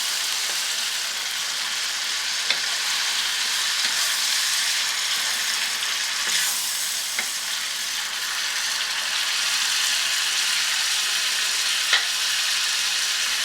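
Liver sizzles and fries in a pan for shawarma fatteh, a loud steady crackle with a few clacks and scrapes as it is stirred and turned, and no one talks.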